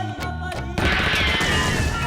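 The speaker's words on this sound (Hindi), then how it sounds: "ये तो डोर बेल में रिंगटोन है गोलियों की आवाज का।" A doorbell rings with a gunshot-sound ringtone. A short tonal chime gives way to a loud, sustained crackling burst like rapid gunfire that fills the rest of the moment.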